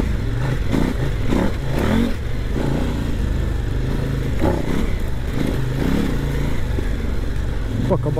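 A KOVE 800 Adventure motorcycle's engine hums and revs steadily up close while riding over small hills, with a rough, throaty tone and some rattling and clatter mixed in.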